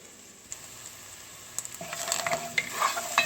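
Goat biryani sizzles in a pot as cilantro is stirred in, starting as a faint hiss that swells into louder crackling and spoon scrapes in the second half, with no talking.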